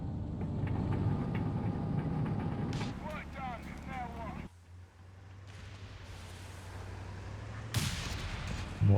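Land Mattress rocket artillery barrage in Company of Heroes 3, a 4v4 match: rumbling explosive blasts and whooshing salvos with a sharp burst near the end, under a commentator's voice.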